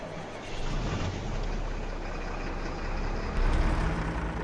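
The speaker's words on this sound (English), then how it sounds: "let's go ahead and turn that engine over" A Valtra T120 tractor engine in a farming game mod cranks and settles into a steady low diesel rumble, loud and close, swelling slightly near the end.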